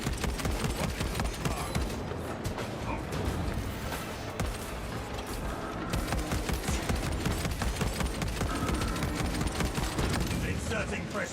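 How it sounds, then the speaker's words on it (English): Rapid Marksman carbine fire in Space Marine 2 crackles in a dense, nearly continuous stream of sharp shots, loud and close throughout, with battle noise layered underneath. "We're currently using the Marksman carbine here."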